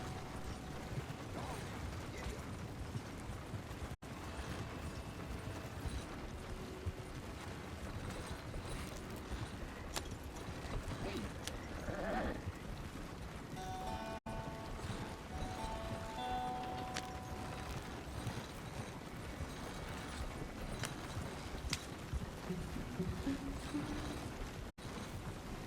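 Hooves of four horses clip-clopping as they pull two wagons in a video game, a quiet steady rhythmic clatter with creaking wood and rattling mechanisms running throughout.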